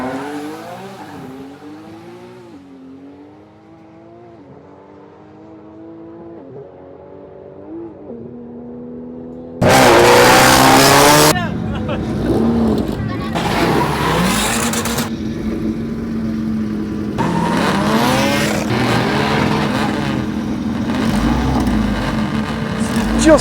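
Drag racing cars, including Nissan GT-R R35s, launch and roar down a Malaysian drag strip, loud engine bursts and revving arriving suddenly after a quieter stretch with voices, then continuing as repeated passes with tire noise.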